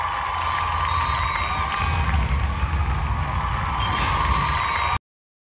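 Audience cheering and applause welcome a Hong Kong Muay Thai fighter to the ring at a Wu Lin Feng kickboxing event, a steady, loud wash of crowd noise that cuts off abruptly.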